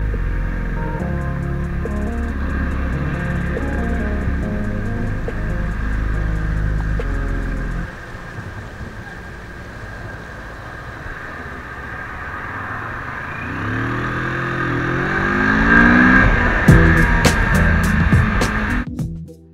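A CF Moto 650MT motorcycle riding along with engine hum and rising revs as it accelerates, loud and steady wind-washed drone with a strong surge toward the end, no talking.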